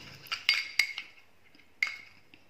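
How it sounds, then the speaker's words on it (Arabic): Spoon clinking against a bowl while mixing milk into cream ingredients: a few sharp, bright metallic taps spaced irregularly, quiet and close, with no voices. "سأضيف الحليب ونمزج هذه المكونات جيدا مع بعض"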